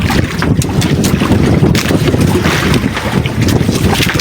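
Strong typhoon wind at sea roars and buffets the microphone aboard a small fishing boat, a loud, continuous gusting rush with churning water underneath, no voices.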